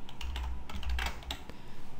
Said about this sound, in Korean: 한번 타이핑을 해보죠